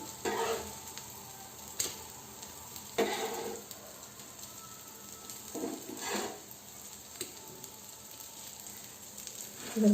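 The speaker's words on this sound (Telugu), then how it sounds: "ఫ్రెండ్స్ అన్నిటిని బాగా మనం వేయించుకోవాలి. అదే షాలో ఫ్రై ఆ విధంగా చేసుకోవాలి." Rajma (kidney bean) tikki patties shallow-fry in a pan with a steady, close sizzle. Occasional scrapes and knocks from a utensil stirring or turning them break through the sizzle.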